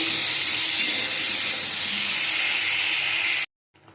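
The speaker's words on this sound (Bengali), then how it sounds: "কাটি কুচিটাকে আমি ভেজে নিচ্ছি, এর মধ্যে একটা আলু দিয়েছি।" Chopped taro stems and potato fry in a pan with a steady, close hissing sizzle that runs evenly and then cuts off abruptly.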